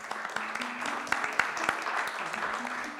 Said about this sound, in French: On va peut-être applaudir nos intervenants.